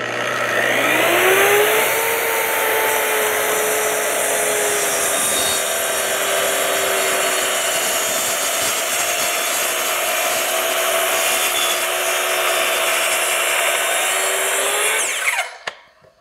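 A Kreg Adaptive Cutting System track saw cuts through a board, running as one loud, steady whine with a sustained motor drone for about fifteen seconds and then winding down abruptly at the end of the cut, with no talking.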